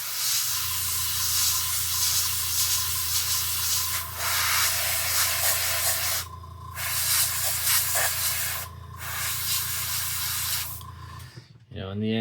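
Paint sprays from compressed air at high pressure, a loud, close, steady hiss broken by a few brief pauses as the trigger is released and pressed again.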